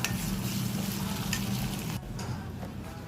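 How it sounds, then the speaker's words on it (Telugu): Ginger and garlic being stirred into mutton curry frying in a pan, steady loud sizzling with scraping stirs throughout, fading slightly toward the end. "అల్లం వెల్లిగడ్డ వేసి కలుపుకోవాలండి బాగా"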